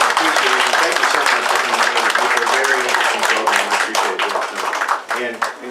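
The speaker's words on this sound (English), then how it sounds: "give Chief Adams, Sheriff McCormick, and Sheriff Wright a big round of applause" Audience applause at a law enforcement program honoring a police chief and two sheriffs, a loud, steady wash of many hands clapping close by that fades toward the end.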